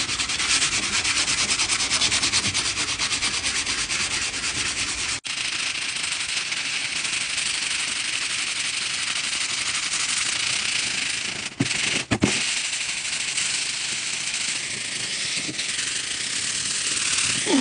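An abrasive Grip Clean towel scrubs stripped spray paint off a surface after Citrus Strip and Premium Stripper, making a continuous rough, rhythmic rubbing close up that goes on for many seconds with only a few brief pauses.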